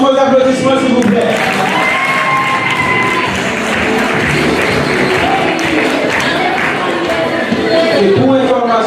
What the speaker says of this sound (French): L'équipe Grenadier, sous vos applaudissements s'il vous plaît.